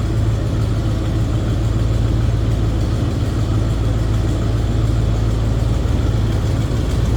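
A 1977 Chevrolet K5 Blazer Cheyenne 4x4 engine runs steadily behind its mildly modified exhaust, a loud, continuous low rumble that holds even and close, with no voices for the whole stretch.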